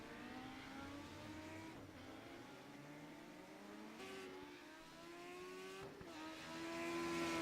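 Race cars on a circuit at a club racing event scream past, engines revving up and down through gear changes, loud and continuous with overlapping cars and no talk.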